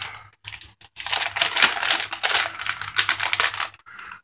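An MRE chocolate dairy shake powder pouch is torn open with a run of crisp, crackling plastic rips and crinkles in irregular bursts, close and fairly loud, with brief pauses between.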